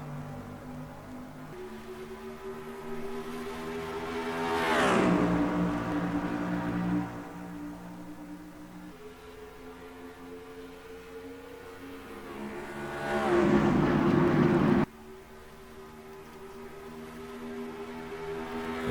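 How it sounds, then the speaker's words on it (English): Truck engines in NASCAR Racing 2003 at Las Vegas Motor Speedway, a steady drone with two cars roaring past up close in swelling, fading passes. "We are racing for the Alsco Uniforms 200 at Las Vegas Motor Speedway."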